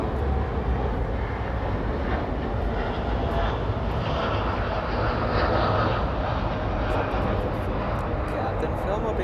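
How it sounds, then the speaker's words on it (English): A United Airlines Boeing 787-10 airliner produces a broad, steady jet rumble at moderate level, continuous and unchanging, heard from a distance with a faint airy hiss on top. "United Airlines 1855 flying to Newark, a 787-10."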